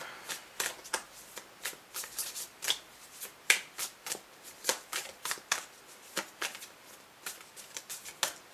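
Quick riffling snaps of a tarot card deck being shuffled, in repeated bursts with short pauses, close and fairly crisp, no voices.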